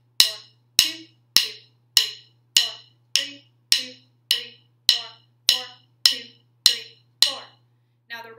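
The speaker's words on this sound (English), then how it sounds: "First four measures are just stick clicks." Crisp wooden drumstick clicks strike at a steady, even pulse, about a dozen sharp close taps in a row as a count-in before a snare drum cadence, with a faint electrical hum underneath.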